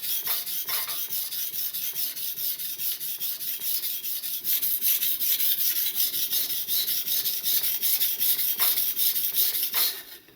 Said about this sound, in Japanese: 一定の角度で一定の力を加えながら研いでいく。